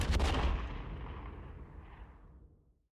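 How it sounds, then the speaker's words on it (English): A single loud gunshot cracks out, then a long rumbling echo that fades away over a couple of seconds. "we get our last flash of red to the crack of a gunshot"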